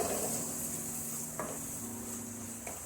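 Masala for white chickpea curry fries in oil in a pan with a soft, steady sizzle. Two brief scrapes of stirring break through, and no voices are heard.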